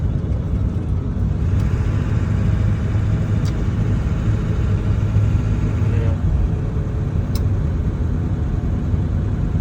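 Steady low idle rumble of a Ford 7.3 Powerstroke diesel truck with 322,000 miles, close and loud throughout, with a few faint clicks and no talk.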